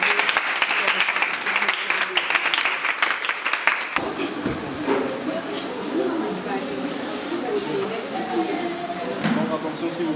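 Clapping from a gathered crowd at a worship gathering at an orphanage, brisk rhythmic claps at first that blur into a broad, steady wash of applause and noise, with voices mixed in.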